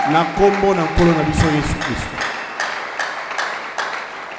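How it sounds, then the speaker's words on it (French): A church congregation at a Sunday service cheers and claps amid loud overlapping voices at first, then settles into scattered, steady applause that fades somewhat toward the end. "manifestez votre présence par des acclamations au nom de notre unique Sauveur, Seigneur Jésus-Christ"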